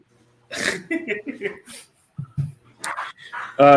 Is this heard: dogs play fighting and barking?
yes